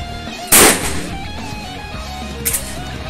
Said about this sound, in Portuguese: Disparo com cartucho SG da CBC, High Impact,